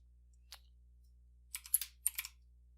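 Computer keyboard typing on a quiet desk: one isolated keystroke, then a quick burst of several clicks and a second short cluster, crisp and close against a low electrical hum.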